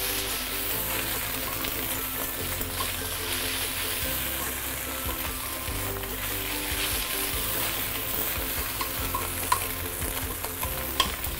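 Noodles sizzling and being stirred in a hot wok while cooking Singapore Hokkien prawn mee, a steady frying hiss with scraping and tossing sounds throughout, close and continuous.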